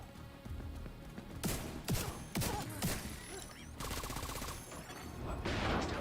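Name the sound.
gunfire in video game The Division 2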